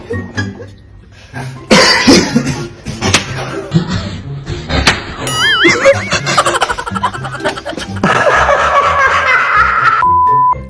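Several sharp coughs burst out among busy, mixed background noise and scattered clatter, with a steady hum rising toward the end.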